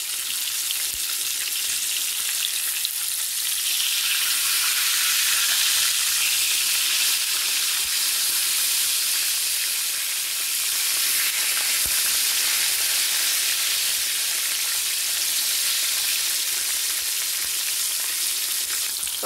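Food fries in a pan on a stovetop after being flipped, a loud, constant bright sizzle and hiss that holds steady for the whole stretch with occasional small crackles, no talking.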